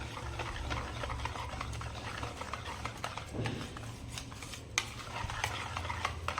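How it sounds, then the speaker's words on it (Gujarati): A spoon stirs nylon khaman batter in a bowl, making continuous close scraping and swishing strokes with a few sharper clinks, and no one speaks. "તમે જોઈ શકો છો કે બેટર આપણું કેટલું સરસ સ્મૂથ બની ગયું છે।"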